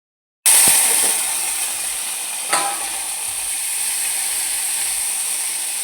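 Green peas tipped into a hot frying spice masala for paneer curry burst into a sudden loud sizzle that settles into a steady hiss, with one sharp clink.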